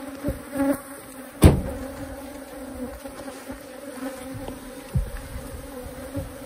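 A dense swarm of bees fills a car carrying a full honey super, making a steady close buzzing hum that runs throughout, with a few soft knocks and thumps; no one speaks.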